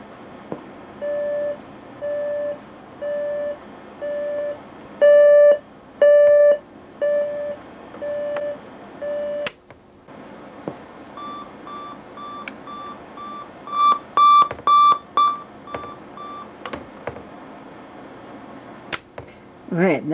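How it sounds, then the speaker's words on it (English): A General Electric 7-4956A cassette clock radio sounds its alarm: evenly spaced electronic beeps in pulsed groups that quicken, then switch after a pause to a different, higher beep pattern, with a few clicks from handling. "let's go ahead and set the alarm and have a listen to that"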